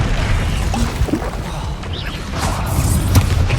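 A Bombarda spell blast in the video game Hogwarts Legacy: a loud, dense boom with crashing debris, followed by further heavy impacts and rumble in a busy, continuous combat mix.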